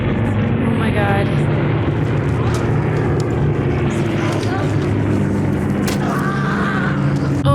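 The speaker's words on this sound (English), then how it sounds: "Okay, thank you for loud planes." A World War II-era propeller airplane in a war drama drones loudly overhead, its engine noise steady throughout, with a few faint voices and sharp clicks mixed in.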